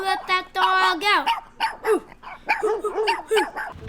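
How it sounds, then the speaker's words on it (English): A dog barks and yips in quick bursts on a foggy beach, the sharp, shrill calls carrying close and clear across the shore. "Who let that dog out?"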